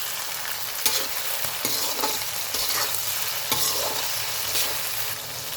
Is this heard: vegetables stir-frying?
yes